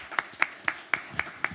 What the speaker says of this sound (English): Are they clapping because I'm leaving?